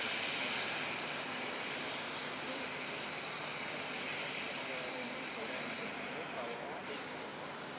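A helicopter over an accident scene in Drachten where a van went into the water, giving a steady, droning engine roar that fills the whole stretch, with voices faintly underneath.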